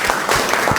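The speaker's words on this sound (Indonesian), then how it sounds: "Oke, beri tepuk tangan buat Marisa." Classroom applause for a student, a short burst of many hands clapping close by, steady and fairly loud with no voices over it.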